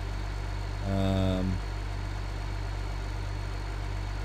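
Tractor engine idling in Farming Simulator 2015 on Xbox One, a steady low diesel rumble that continues throughout, briefly broken by a short rising tonal sound that lasts about half a second.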